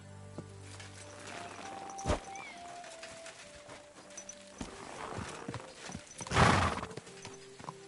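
Video game horse in Kingdom Come 2: hooves clip-clop at a steady walk alongside a whinny, with a louder burst of neighing near the end over a low game ambience.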